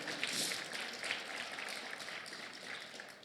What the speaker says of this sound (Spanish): Apláudale por eso al Señor.